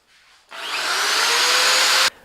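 A power drill, blue with torque control, whirs loudly and steadily for about a second and a half, starting and stopping abruptly.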